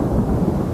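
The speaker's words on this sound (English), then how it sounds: "the first thunder rumbled across the heavens" Low thunder rumbles steadily across the sky over an isolated Wild West cabin and barn, a deep, continuous roll that fills the short moment without any break or voices.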